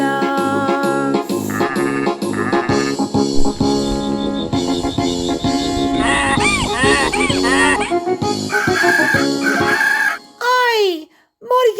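Rooster crowing on a farm amid a lively Afrikaans children's sing-along about farm animals, with music playing throughout and the crow-like calls near the end after the music drops.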